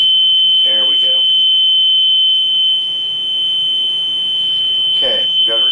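A continuous high-pitched electronic alarm tone from a Zoll defibrillator during maintenance testing holds steady throughout while a person speaks briefly over it near the start and end.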